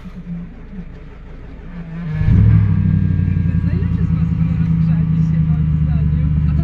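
An old BMW car, frozen solid in severe frost, cranks and its engine catches and settles into a steady, loud close-up idle rumble.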